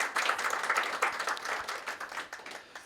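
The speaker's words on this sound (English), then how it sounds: "I think we all deserve a round of applause for that" A modest audience at a laboratory professional-development session in Mthatha gives a short round of applause, individual claps distinct and uneven, fairly quiet and close, tapering off toward the end.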